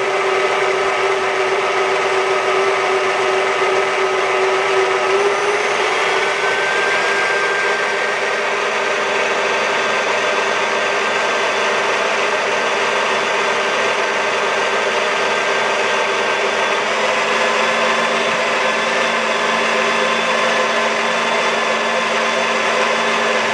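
An electric mixer beats egg whites on medium speed, a close steady whirring drone with a faint rattling texture that runs unbroken for over twenty seconds, with no talking.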